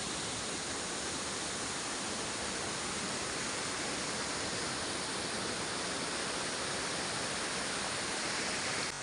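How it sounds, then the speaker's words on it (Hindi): A mountain river winds past a large rock near a hill village during the monsoon, its loud, continuous rushing roar filling the air without pause, as if heard from a bridge overhead. "इस तरीके से पहाड़ी नदियाँ ये बल खाती हुई जा रही है"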